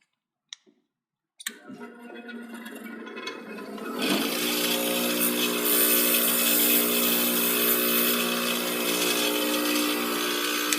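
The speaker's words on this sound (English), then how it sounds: "We'll grind a little bit off this bottom edge because that's where the 2 wires are attached" A small power grinder whines into the bottom edge of a glass dashboard light bulb where its two wires attach; after a brief start it settles into a loud, steady, high-pitched grinding that runs to the end.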